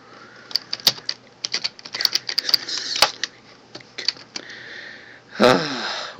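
Keys on a computer keyboard tap in short irregular bursts, close and fairly crisp, with a brief breathy sniff near the end.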